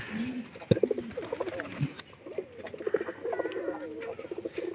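Caged pigeons coo in soft, repeated rolling phrases close by, a few coos overlapping at a time, with faint chirps and light background noise.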